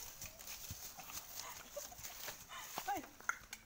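A horse carrying a heavy load clip-clops with irregular hoof steps at a moderate distance, quiet and mixed with faint shouts and voices of people urging it along.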